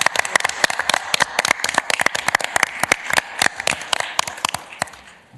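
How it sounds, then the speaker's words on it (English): Round of applause at a county board meeting: a brief burst of many hands clapping in a room, dense and lively, tapering off after about five seconds. "We don't often give a round of applause on agenda items, but I really think it's deserved in this case"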